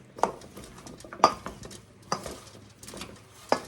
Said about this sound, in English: We're just going to take this potatoes and onions and toss them around in our oil.